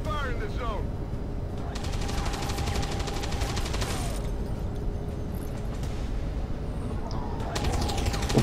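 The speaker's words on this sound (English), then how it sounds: "There's heavy fire in this zone." Heavy gunfire in the game XCOM 2: long rapid bursts of automatic fire rattle over a loud, dense battle din, with sharp repeated cracks near and far and a few sweeping whines layered on top.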